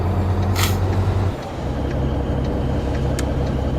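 A 6-speed truck drives with a loud, steady engine drone; around one and a half seconds the engine note drops as a gear change comes, then the hum resumes with faint clicks and rattles.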